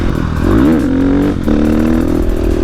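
A KTM dual sport motorcycle engine revs loudly and steadily through a wheelie ridden in sixth gear, its pitch swooping up then settling into a sustained drone with a brief dip midway, close and continuous with no talk.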